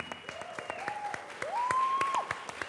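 An audience applauds band members being introduced on stage, a light patter of claps under a sustained tone and rising musical whistle-like notes, moderately quiet throughout.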